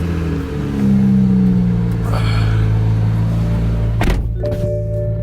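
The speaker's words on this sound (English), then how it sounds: "So I'm going to back this thing up real quick." A BMW with newly fitted three-piece BBS RS wheels idles and reverses, its engine a steady loud drone that rises slightly as it moves, with a couple of clunks partway through.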